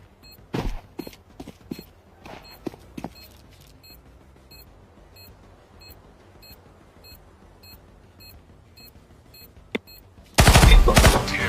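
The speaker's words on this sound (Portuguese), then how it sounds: "Provando que a Bison atira até de longe" A Bizon submachine gun fires in a first-person shooter, with scattered single shots and short bursts over a quiet hum, then a loud sustained stretch of rapid gunfire near the end.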